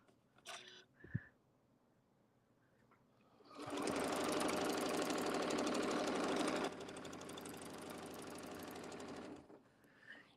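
Domestic sewing machine stitching in one loud, steady burst of rapid needle strokes lasting several seconds, then continuing at a softer level before stopping. A few quiet handling clicks come before and after.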